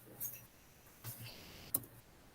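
A single keyboard key press, the Enter key, lands as a short sharp click near the end, with a couple of fainter taps before it in a quiet room.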